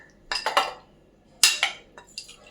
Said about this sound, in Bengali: এরকম একটা স্টিলের টিফিন কারি নিয়ে নিলাম এর মধ্যে এবার পনিরটা আমি সমস্তটা ঢেলে দেবো